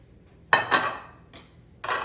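Chopped onions going into a bowl or onto a plate in a home kitchen for sloppy joes, heard as a few separate clinks and clatters against dishware with short gaps between.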